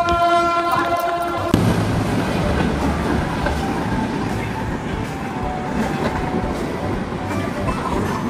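A train rolls past close by with a loud, continuous rumble and rhythmic clatter of wagons after a brief tonal horn-like sound at the start.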